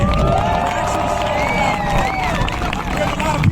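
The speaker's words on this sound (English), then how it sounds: "Give yourself a round of applause for being here." A large outdoor political rally crowd cheers and whoops continuously at steady volume, with shouts and whistles rising over a broad wash of noise, no single voice standing out.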